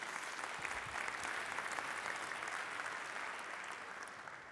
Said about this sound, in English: Then I want you to give him a round of applause.